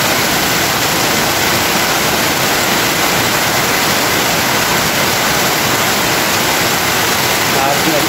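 Heavy rain runoff rushes through a drainage canal in a steady, loud, broadband roar of water that holds even throughout, with no voice audible.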